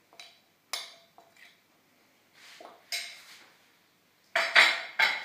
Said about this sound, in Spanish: Vamos a mezclar un poquito todo.